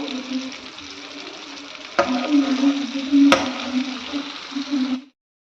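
KFC-style crispy chicken strips frying in hot oil give a steady, close sizzle and hiss, broken by a couple of sharp clinks as the pieces are turned, before the sound cuts off.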